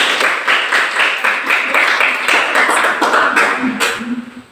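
A class claps hands together on a teacher's cue, a brisk run of close, distinct rhythmic claps that slows and fades near the end.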